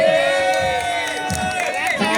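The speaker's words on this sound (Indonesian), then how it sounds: "tepuk tangan buat sama-sama, Mbak Moli" A press-conference audience for the Indonesian film 1 Kakak 7 Ponakan claps and cheers in a steady, fairly close mass of applause, with scattered shouts and a voice rising over the crowd noise.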